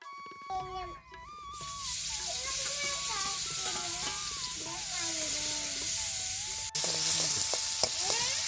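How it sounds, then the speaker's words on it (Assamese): Chopped onion and chilli fry in a pan with a loud, close, continuous sizzle and some stirring scrapes, while a voice talks over it. "পিঁয়াজ আৰু জলকীয়াখিনি মই ভাজি লৈছোঁ।"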